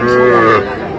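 Cattle at a Tangail livestock market low with a single loud, close, drawn-out moo that holds steady for most of a second before tapering slightly.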